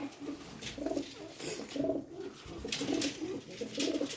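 Several pigeons coo in repeated low, rolling phrases at a steady rhythm, fairly close, with background hiss and light ambient noise, no speech over them.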